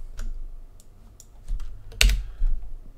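Close computer keyboard typing: a handful of sparse, irregular key clicks over a few seconds, with one louder press near the middle, heard alone without talk.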